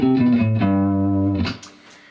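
Guitar notes ring out a short Mixolydian mode run, a few sustained tones blending with a slightly effected, distorted tone, close and clear before fading, with no voices.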